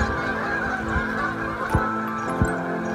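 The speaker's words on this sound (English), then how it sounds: "Could you just maybe a little less with the honking?" Geese honk repeatedly in short bursts over a steady background of traffic and ambient noise, the calls close and fairly loud with a couple of sharper, stronger honks standing out.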